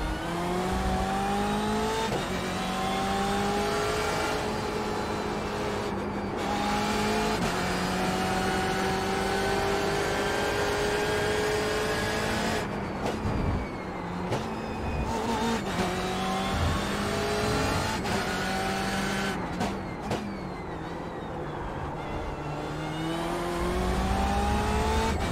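BMW M8 GTE race cars in the iRacing sim at COTA howl through repeated upshifts and downshifts, engine pitch rising and falling loudly for the whole stretch, with brief tire squeal and other cars passing.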